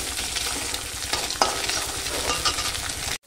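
Eggs frying in oil in a pan while being stirred, with a loud, close sizzle and scraping stirs over a continuous crackle that cuts off abruptly at the end.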